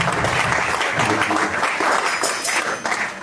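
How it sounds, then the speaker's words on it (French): A church congregation at a worship service applauds together, a dense, sustained wash of many hands clapping close by, steady and loud for the whole stretch before tapering slightly at the end. "Applaudissez l'église pour nous"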